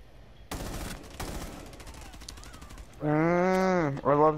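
Video game gunfire in rapid bursts, two sharp loud volleys early on followed by quicker rattling shots, then a drawn-out tonal voice sound toward the end.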